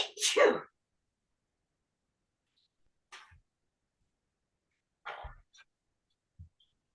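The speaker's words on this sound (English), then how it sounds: "I had to sneeze." A single loud sneeze opens on a quiet indoor sewing setting, followed by soft sniffles and a few faint mouth and breathing noises scattered across the silence.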